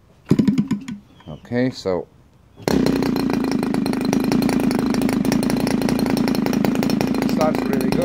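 Someone speaks briefly, then an MVVS 1.44 twin model gas engine with CH ignitions and a Czar 17.6 propeller starts up loud and close, idling steadily with a buzzing drone.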